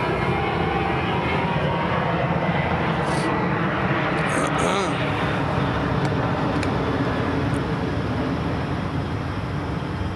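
A loud, steady roar of an airplane passing overhead fills the whole stretch, a broad engine drone that holds without fading.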